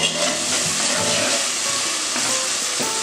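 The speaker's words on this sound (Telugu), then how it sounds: "ఈ ఆవాలు, జీలకర్ర, మెంతులు మనం నూనెలో వేస్తాము. ఇది బాగా వేగాలండి." Mustard seeds, cumin and fenugreek frying in hot oil for a Nellore fish curry, a steady close sizzle and crackle running throughout with no voices.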